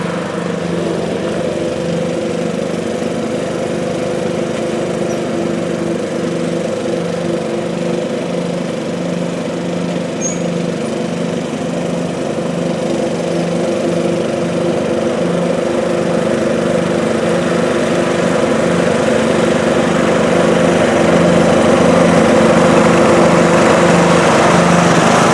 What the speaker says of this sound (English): He was cutting the grass like a little boy that just got a new toy.